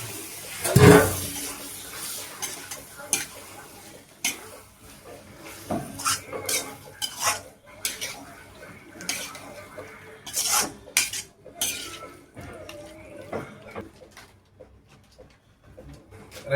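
Mutton head curry stirred in a cooking pot, village style, with repeated scraping and clinking of a metal spoon against the pot and soft wet sloshing, loud at first, then in irregular bursts with pauses.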